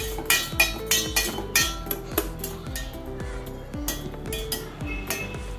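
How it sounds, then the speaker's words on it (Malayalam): A spoon clinks and scrapes against a pan while pineapple pachadi is stirred, giving a quick, close series of bright metallic taps and rattles that slows and thins out toward the end. "ഇനി ഒന്ന് ഇളക്കി"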